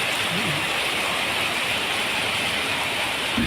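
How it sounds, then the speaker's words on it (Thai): Heavy rain pouring down steadily in a dense, constant hiss that fills the whole stretch, loud and unbroken, with no clear voices over it. "ฝนตกครับ ผม อย่างแรงครับผม"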